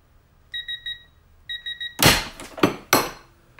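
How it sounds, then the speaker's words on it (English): A quarter-inch Snap-on ratchet strained to failure in a torque test: a few sharp metallic pings first, then three loud cracking bursts as the anvil shears, close and with no talk. "we're gonna go ahead and take this ratchet to failure"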